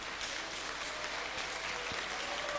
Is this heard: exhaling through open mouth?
no